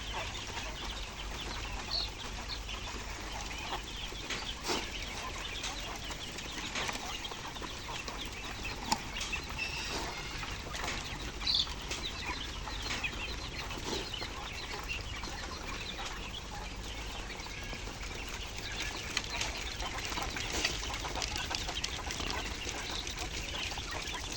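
A farm flock of quail feeding, with continuous soft clucking, chirping and occasional wing flaps blended into a steady, fairly faint background murmur throughout.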